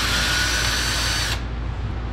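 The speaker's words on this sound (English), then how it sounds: "we just take a little drill and drill out the rivets" A small power drill bores out the rivets on a boat's transom cap, giving a steady, loud high-pitched whine that runs for over a second before cutting off to a lower idle spin.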